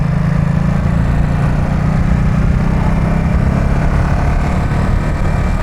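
A Triumph Speed Triple 1200 RR three-cylinder engine drones steadily at low revs, a loud, close, vibrating hum with no talking.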